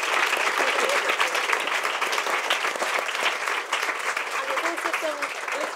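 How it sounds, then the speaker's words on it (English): Sustained applause from an audience thanking panelists after a women's rights discussion, dense and even clapping throughout, with faint voices mixed in beneath it. "So give them a round of applause."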